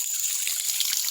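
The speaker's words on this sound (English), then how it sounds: "We got our spring water coming out of the standpipe here" Spring water pours out of a ram pump standpipe in a steady, close, hissing trickle that runs evenly for the whole moment, with no voices.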